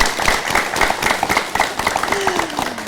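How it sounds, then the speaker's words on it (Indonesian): An audience applauding at an Indonesian talk event, with steady clapping throughout, and a voice and tonal sound faintly underneath. "Boleh tepuk tangannya."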